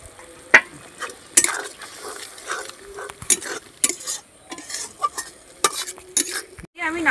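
Fried prawns being added to a sizzling pan and stirred with a utensil, a steady close sizzle broken by irregular scraping and clinking of metal against the pan, with no talking.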